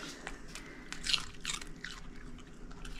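Someone biting and chewing raw celery up close, producing a few wet, crisp crunches in quick succession followed by softer chewing, with no talking.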